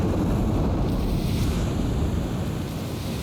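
Waterfall in a Minecraft Middle Earth build, a loud, continuous broadband rush of falling water that holds steady throughout with no voices.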